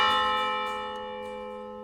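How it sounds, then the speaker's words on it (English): Church bells ring out over a city center in a video game, one long resonant toll decaying slowly, with another strike arriving right at the end. "Bells began resonating all over the city center."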